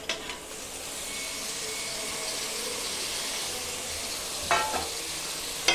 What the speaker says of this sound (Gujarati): હું હવે એના અંદર ટામેટા મિક્સ કરું છું